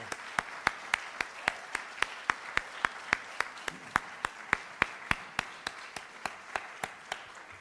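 An audience applauds a group of students at an address, the claps landing in a steady, evenly spaced rhythm of roughly three per second, like a crowd clapping in unison, sustained and fairly close throughout.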